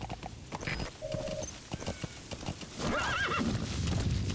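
A horse in Metal Gear Solid V, D-Horse, gallops with steady clip-clopping hooves and lets out a loud, wavering neigh near the end, all close and clear with no talking.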